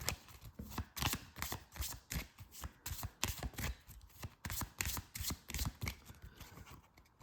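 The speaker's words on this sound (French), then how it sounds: "Et je remélange toutes les cartes recrues." Recruit cards from the Sorcellerie board game are shuffled by hand in a quick, even rhythm of soft riffling and tapping, close and clear for about seven seconds with no talking.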